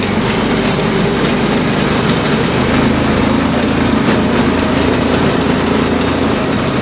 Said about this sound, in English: It does make a little bit of noise, and part of that is because there's this stuff in the bed rattling about